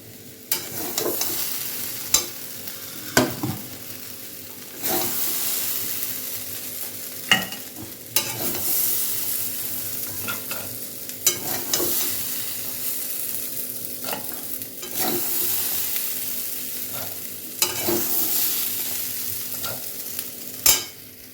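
Hot water goes into a pan of sautéed peas and semolina, which keeps up a steady hiss and sizzle while a utensil scrapes and clatters against the pan in repeated stirring strokes.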